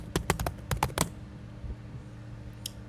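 Quick burst of laptop keyboard keystrokes as a password is typed for a login prompt, about a dozen close, crisp clicks in the first second, then near silence with one faint tap later.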